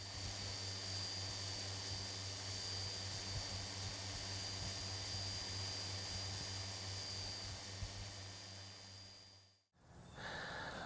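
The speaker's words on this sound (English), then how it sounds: "flying his drone" A drone flies overhead with a steady, high-pitched propeller whine droning continuously at moderate distance, then cuts off abruptly near the end before a brief return of background noise.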